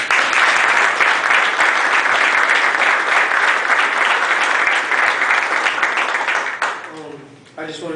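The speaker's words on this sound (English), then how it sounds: "Give him a round of applause." A worship-service audience at a men's conference claps in sustained, dense applause that fills most of the stretch, then thins out and fades near the end as a voice starts to come through.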